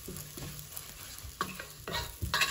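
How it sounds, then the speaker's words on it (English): Dough fries in melted ghee inside a cooker, a soft sizzle broken by several scraping strokes of a spoon stirring it, growing louder toward the end. "After the ghee melts, now I'm going to fry the dough a little bit."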